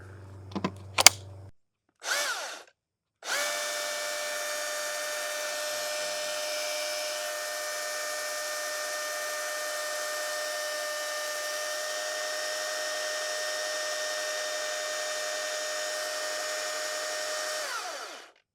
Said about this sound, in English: You can see the lube coming off of the chainsaw. So let it run for 30 seconds.